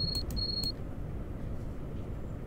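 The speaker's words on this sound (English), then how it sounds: "What's this? Driver buzzer." A driver buzzer in the Train Sim World railway game sounds as a few short, high electronic tones in quick succession at the start, then falls away to a quiet cab hum.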